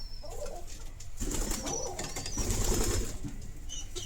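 Nearby pigeons suffering in winter cold coo in low, throaty bursts, with a faint flutter of wings and a soft hiss of background noise.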